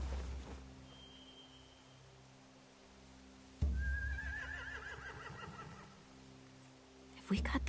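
Horses neigh in The Walking Dead video game: two drawn-out whinnies, the second louder and wavering, over a low ambient hum with a soft thud in between.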